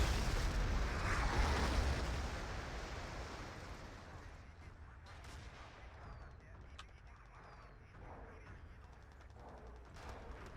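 Artillery in the video game Battlefield 2: a heavy rumbling blast swells loudly at first, then fades into a low, rolling background with scattered distant booms.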